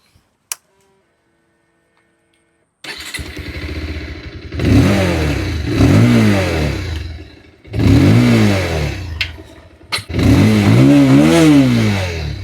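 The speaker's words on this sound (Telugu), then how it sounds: "సో ఫస్ట్ అయితే ఒకసారి ఎగ్జాస్ట్ నోట్ చూద్దాం." A 2026 Bajaj Pulsar 220F motorcycle starts up and its exhaust is revved several times, loud and close, each throttle blip rising and falling in pitch between idle stretches.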